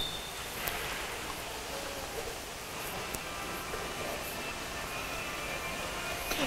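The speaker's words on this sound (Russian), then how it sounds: "на улице ливень, судя по звукам" Heavy rain falls outside in a steady, hissing downpour, faint and continuous as if heard from indoors in an IKEA store in Rostov-on-Don.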